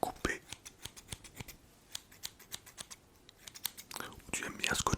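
Quick snipping cuts repeat in a steady run, close and crisp, with soft whispery breaths and rustling between them.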